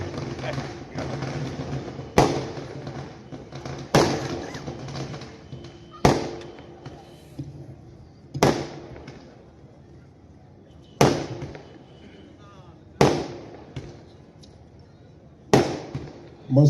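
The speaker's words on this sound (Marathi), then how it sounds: "फटाके लावायचं नाही." Firecrackers bursting at a BJP election campaign rally for the Mhaswad municipal council: sharp single cracks roughly every two seconds, about eight in all, each echoing briefly over someone speaking through a loudspeaker.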